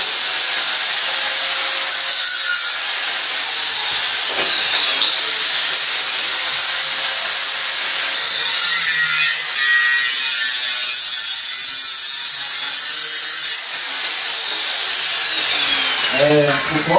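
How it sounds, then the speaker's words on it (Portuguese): An angle grinder cutting scrap metal whines steadily at high pitch, with pitch sweeping down as it bites into the metal, running continuously the whole time. "E já ligar a lixadeira para ganhar tempo, pessoal."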